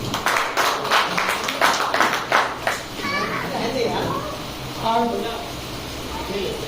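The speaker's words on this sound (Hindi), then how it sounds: "जोरदार ताली बजाएं" Audience clapping at an outdoor political gathering, several seconds of rhythmic hand claps that give way to a crowd murmur and voices speaking nearby.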